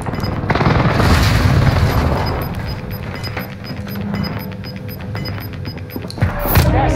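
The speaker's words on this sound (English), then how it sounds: "Enemy precision airstrike. Stay alert." Precision airstrike explosions in Call of Duty Warzone, a series of heavy booms and rattling gunfire-like thuds layered under game noise, loud and dense, with a sharper blast near the end.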